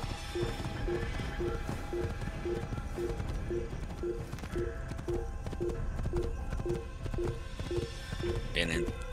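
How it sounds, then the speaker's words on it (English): Hooves clip-clopping at a steady, even rhythm as a horse is ridden in Assassin's Creed, with game ambience and a voice speaking over it. "I'm on a horse."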